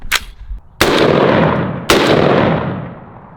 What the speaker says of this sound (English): Let's shoot this one.